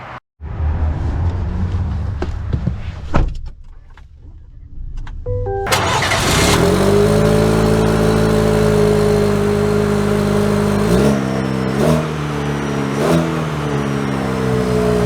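A 2024 Chevy Silverado with a four-cylinder turbo engine cranks and starts, then settles into a loud, close, steady running drone that rises in pitch as it revs and pulls away, with no talking.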